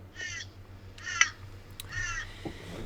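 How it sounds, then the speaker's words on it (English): Birds calling outside a window during Hurricane Harvey give three harsh, crow-like caws, evenly spaced and moderately near, over a low steady hum. No one speaks. "And some ducks in the background."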